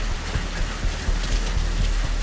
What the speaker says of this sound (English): it looks like it's started to rain